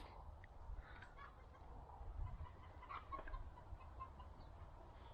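Faint chicken clucking in the distance over a steady low background rumble, a few soft scattered calls.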